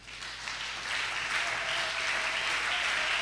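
A church congregation breaks into sustained applause that swells after the first second and holds as a dense, even wash of clapping, moderately distant, with no distinct voices.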